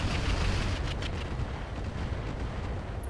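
Mech artillery and weapons fire in the game RogueTech, a loud sustained rumbling blast that peaks at the start and rolls on as a dense low roar through the whole stretch.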